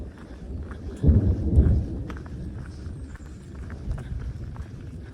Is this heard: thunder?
yes